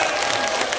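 An audience at an Islamic lecture for a halal bihalal gathering claps for a congregation from Hong Kong, a dense, steady burst of applause filling the moment.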